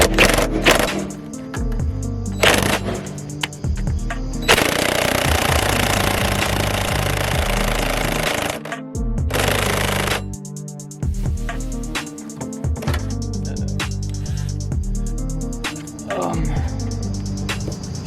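Impact wrench hammering at bumper bolts on a 1998 Jeep Cherokee XJ, loud close bursts of rattling with a long sustained stretch in the middle and pauses between, no talking.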